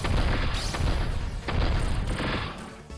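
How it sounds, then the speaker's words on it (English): A dense barrage of booming explosions from a boss attack in the video game SRB2 Infinity rolls on continuously and loudly, with brief dips between bursts and no talking. "there's also explosions coming out from the side."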